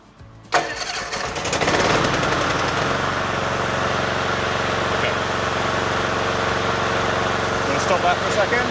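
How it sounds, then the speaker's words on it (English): A remote-controlled mower built for overgrown vegetation cranks, catches and roars into life, then settles into a loud, steady running drone close by. "you have a button just to start the engine."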